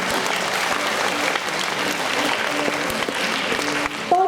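Sustained applause from an audience at a primary school graduation and prize-giving ceremony, steady clapping filling the hall for about four seconds, with faint murmuring underneath.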